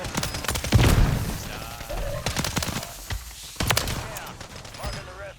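WSP-9 submachine gun firing in Call of Duty Warzone, rapid bursts of sharp shots in several separate volleys, close and loud, with a voice speaking between them.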